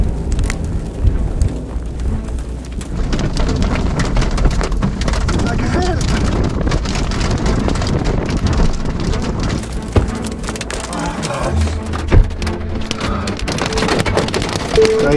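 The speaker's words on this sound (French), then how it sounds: "Ça y est, grêle maintenant." Dense, steady patter of hail from a supercell thunderstorm striking surfaces, loud and continuous throughout, with occasional sharper impacts and faint voices underneath.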